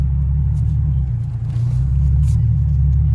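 A warmed-up Infiniti G37/G35 engine idling steadily, a deep, even rumble heard up close with no talk over it.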